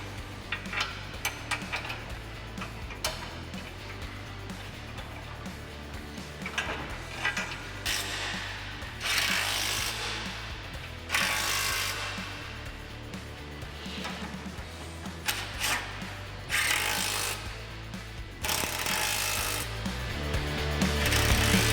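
A ratchet clicks in quick uneven bursts while front bumper bolts are tightened on a 2022 Ford Bronco Raptor, close by, with knocks and tool clatter between runs and a low hum underneath.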